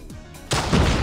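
A launcher round explodes in Call of Duty Mobile, a sudden loud broadband blast after a half-second of quieter ambience, followed by a sustained rumbling roar of debris and echo.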